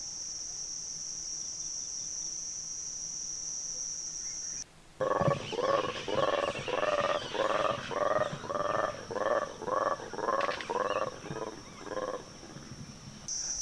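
Guereza colobus monkeys at Lake Nkuruba, Uganda, give a loud run of about a dozen rhythmic, pulsing roars that begin after a steady insect drone and fade near the end, with crickets and frogs continuing in the background.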